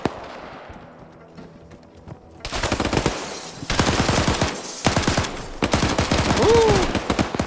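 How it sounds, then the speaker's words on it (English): Dense, rapid gunfire from a video game match bursts in after a quiet opening, with automatic volleys and single shots piling up loudly and continuously, while a voice speaks faintly underneath. "with all the gunfire, that's just adding to the confusion"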